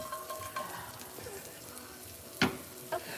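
Spit hitting a hot, dry frying pan gives a brief sizzle, a sharp burst of hiss followed by a smaller second one, over a faint kitchen background.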